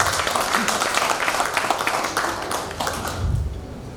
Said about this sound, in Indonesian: Tepuk tangan buat Kota Bontang